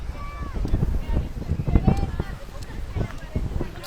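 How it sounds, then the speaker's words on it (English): Wind gusting across a Lake Michigan beach in Rogers Park, Chicago, roaring steadily into the microphone with rumbling buffeting, while a person talks over it. "here comes the wind again"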